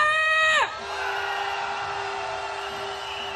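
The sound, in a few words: rally crowd shouting victory cheer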